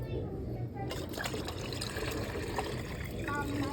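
Water trickles and splashes steadily as it is poured out for pigeons, a soft continuous liquid sound close by with no voices.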